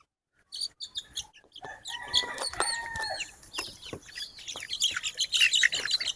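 Buff frizzle Polish Cap chicks, just over a month old, peep and chirp in a busy, overlapping chorus after a brief silence, the high calls growing denser and louder toward the end.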